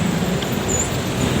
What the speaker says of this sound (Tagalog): Medyo maingay dito sa labas kasi highway.